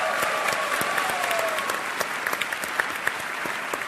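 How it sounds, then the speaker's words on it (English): Live game show taping crowd at a gaming convention applauds the contestants, a steady wash of clapping with scattered sharper claps near the end and a faint tone early on. "A round of applause for our contestants."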